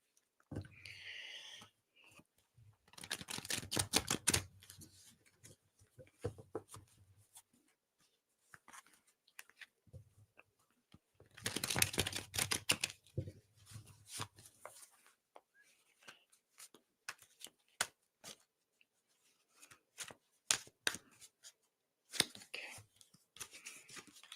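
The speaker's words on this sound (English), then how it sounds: "I have to shuffle this deck a certain amount of times" A deck of tarot cards is riffled and shuffled in two separate rapid bursts, with quieter card handling and soft rustles in between, close and fairly quiet.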